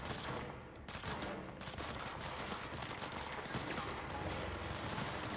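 Sustained gunfire in the video game Control, dense rapid shots blending into a continuous loud roar of fusillade throughout, with no pauses.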